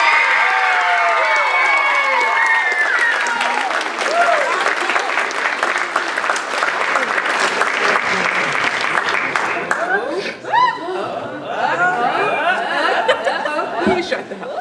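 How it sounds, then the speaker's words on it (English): A crowd at an end-of-year creative writing and music event claps loudly, with cheers and laughter mixed in, then the clapping thins out while voices and chuckles continue. "Hey, clap back"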